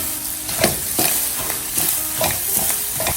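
Sausage frying in oil in a pan, a spatula repeatedly scraping and breaking it into smaller pieces, rhythmic scrapes over a steady close sizzle, no voices.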